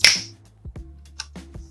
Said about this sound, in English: I stamped my fingers in excitement.